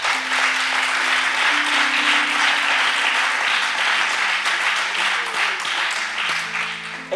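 A church congregation applauds loudly and steadily, dense clapping from a large crowd sustained throughout, with sustained keyboard tones playing underneath.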